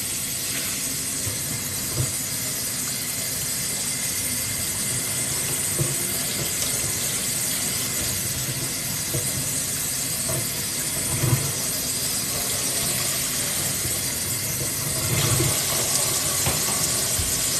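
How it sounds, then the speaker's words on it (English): Tap water runs steadily over hair being soaked while the curls are prepared, a continuous close hiss and splash with brief shifts in the flow. "we've been running it underneath the water for a minute, it's still not even wet"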